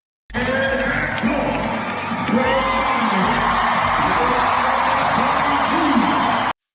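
A packed arena of about 15,000 fans screams and cheers for Caitlin Clark's return in Iowa, a loud, sustained roar of whoops and shrill yells that runs throughout without a break.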